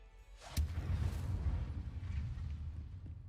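A fireworks spell cast in the Hogwarts Legacy video game bursts with a sharp pop followed by a sustained crackling, rumbling boom that lingers for several seconds.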